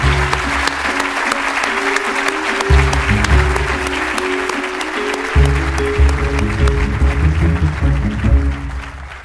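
An audience gives a sustained round of applause for an equity council, steady dense clapping that fills the room with a few brief surges, with some faint voices under it.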